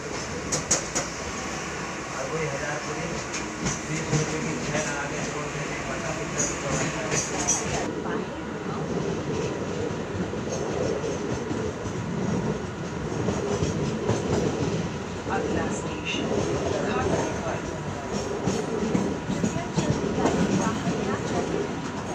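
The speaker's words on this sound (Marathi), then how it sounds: "चला मित्रांनो ट्रेनचा प्रवास आपण करणार आहे, थोडंसं बघूया झलक." On board a train heading to Malad, a steady rumble of wheels on track fills the scene with rhythmic clatter throughout, close and continuous, with voices faintly mixed in.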